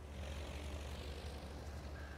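Aircraft launch from a carrier in the game Aircraft Carrier Survival, a continuous droning propeller-engine roar that stays steady and fairly loud throughout.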